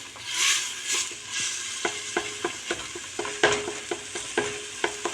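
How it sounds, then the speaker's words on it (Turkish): A spoon stirs tomato paste and onions in a pot on the stove, giving a run of regular scraping taps over a soft sizzle from the oil. "Bir kaşık domates el salçası da koydum. Soğanla birlikte karıştırıyorum."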